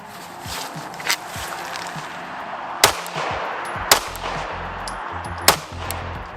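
A handgun fires at an outdoor shooting range, with three or four sharp, loud cracks spread irregularly over several seconds above steady background noise and shuffling.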